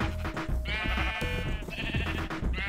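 Sheep in Minecraft bleating repeatedly, three drawn-out nasal bleats close by, each a second or so long, over a busy backdrop of game sounds.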